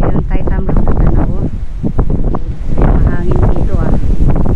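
Strong wind buffets the microphone in loud gusts on a Hong Kong Trail ridge near Jardine's Lookout, with a voice talking through the roar.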